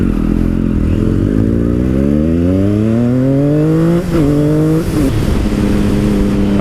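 A Yamaha R1 motorcycle engine pulls hard through a long wheelie, loud and close, its pitch climbing steadily through several gear changes with brief dips at each shift, alone with no talk.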